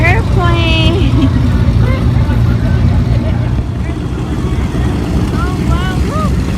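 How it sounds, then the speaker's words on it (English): An airplane passes at an airshow, a broad engine roar rolling steadily underneath as excited voices and children's chatter carry over it. "Airplane!"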